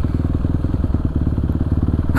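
A Kawasaki KLX 450 supermoto runs close by on a test ride, its single-cylinder engine making a loud, steady, pulsing throb with a rapid regular beat and a faint clatter.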